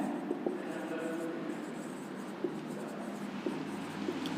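Faint, sparse taps and strokes of writing on a board as a determinant is expanded along its first row, over a low steady room hum.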